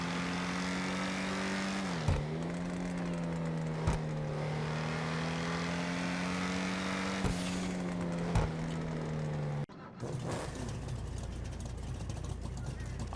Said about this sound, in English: Hot rod type vehicle that actually sounds like an old hot rod.